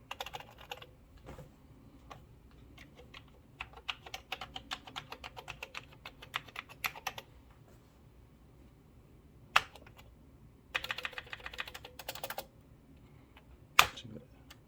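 Bursts of clicky typing on an old Commodore 128 keyboard, rapid keystrokes in clusters separated by pauses, with a couple of sharper key thumps.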